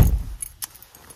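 Keys jangling briefly from a pocket inside a car, a short close metallic rattle with a couple of small clinks lasting about a second.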